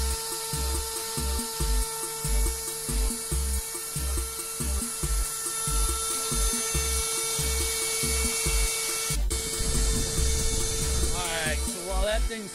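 A carving machine runs steadily in a metal workshop, giving a continuous whirring drone with a rhythmic pulsing underneath, close and moderately loud throughout.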